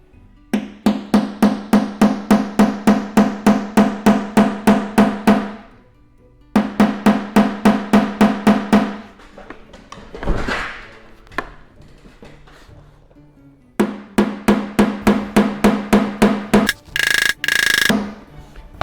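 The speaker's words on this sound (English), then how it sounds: "I'm going to go ahead and use what I call a blending hammer. Try to tap that little high spot down." Bursts of rapid, sharp metallic tapping from a small blending hammer striking a hail-damaged car panel, three long runs of even taps with short pauses between.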